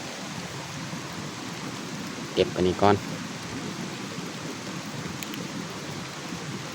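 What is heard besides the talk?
rain falling on a chili farm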